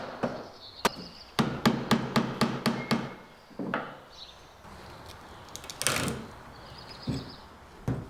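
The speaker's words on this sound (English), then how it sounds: "then proceeded to beat these things with a rubber mallet" Rubber mallet striking the legs of a mid-century wooden dresser, a rapid series of about eight sharp knocks followed by scattered heavier blows and scraping, close and distinct.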